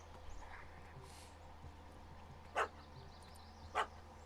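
A puppy in The Witcher 3 gives two short, sharp yips a little over a second apart, moderately close over a quiet low hum, with no talking.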